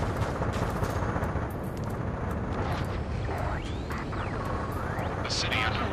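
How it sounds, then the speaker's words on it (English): Ace Combat 7 video game scene with dense, continuous roaring rumble, like distant gunfire mixed with the sustained roar of passing jets over city streets, loud throughout with a faint sweeping tone midway. "Gunfire and the roar of jets echoing through the streets."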